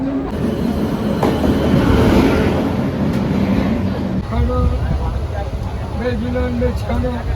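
Rumbling train noise with rattling wheels and brief squeals at busy Dadar station in Mumbai, while people talk over it.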